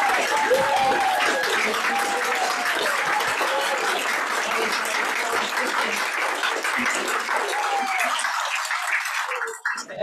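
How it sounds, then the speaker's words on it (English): Sustained audience applause at a storytelling event, dense and steady for about nine seconds, with a few whoops over the clapping before it cuts off abruptly. "please, one more round of applause for Taffy"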